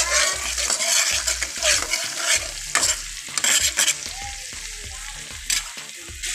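Onion and garlic sauté in a pan with a sizzling hiss, broken by regular, close spatula scrapes and stirring knocks against the pan in a steady rhythm.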